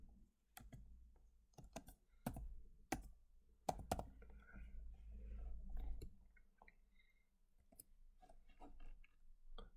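Keys clicking on a computer keyboard while entering chamfer text in a drawing program, sparse irregular taps and short bursts, quiet and close, with no speech.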